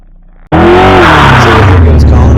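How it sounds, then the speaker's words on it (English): A car launches hard from a standstill on a test track, its engine jumping abruptly from idle to a loud roaring rev with squealing tires, the pitch climbing and sustained to the end. "So here goes Colin with his good takeoff, nice quick acceleration."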